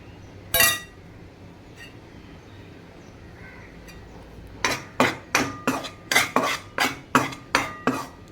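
A metal spoon scrapes and clinks against a pan while gram flour roasts in ghee, with one sharp knock early, then a quick run of about ten rhythmic, evenly spaced clinks close by.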